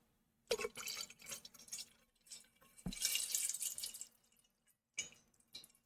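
Drinking water is poured into a glass, giving splashy, trickling bursts with a couple of brief pauses, close and fairly quiet with no talk.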